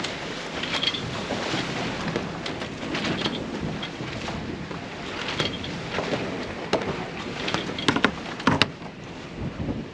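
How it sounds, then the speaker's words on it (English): A sailboat crosses a bar through breaking waves, with rushing water, wind buffeting the microphone and intermittent splashes and thumps against the hull, loud and continuous. "Who doesn't love sailing through a bar?"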